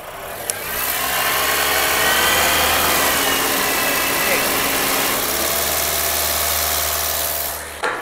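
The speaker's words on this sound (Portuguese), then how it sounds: "Com o ar ligado, como o compressor ronca bastante" A Honda Fit engine idles with the air-conditioning compressor engaged, giving a steady, loud low rumble and hum that runs nearly the whole clip close to the car.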